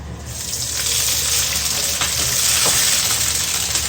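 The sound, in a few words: water poured into browned frying onions, sizzling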